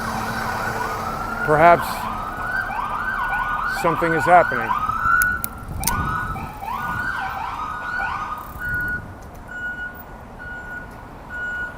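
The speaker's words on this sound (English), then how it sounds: "So we got fire trucks here." Fire truck and ambulance sirens wail and yelp through a city street, overlapping bursts and a horn blast over steady traffic rumble, fairly close; someone speaks briefly over them.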